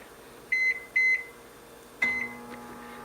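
Microwave oven warming pasta gives two short, evenly spaced beeps, then a third beep as the door opens or the cycle ends, close and clear over a low appliance hum.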